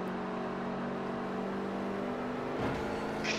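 A car overtaking in the racing game Forza Horizon 4 gives a steady, loud engine drone with a sustained tonal hum, rising into a brief rush near the end, with no talk.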